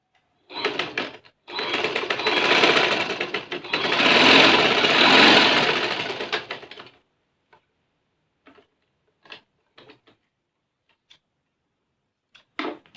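A sewing machine stitches joint lace onto fabric in two close, buzzing runs, a short burst and then a longer one, followed by scattered faint clicks and ticks as the machine settles.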